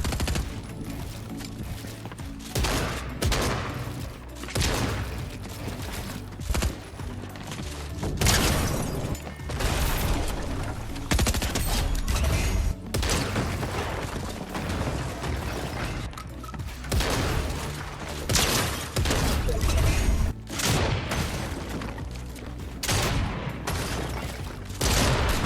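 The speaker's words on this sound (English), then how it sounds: "This shotgun is so good." Rapid shotgun blasts and gunfire in a Fortnite solo match, loud repeated reports mixed with game effects and booms throughout, continuing densely with little pause.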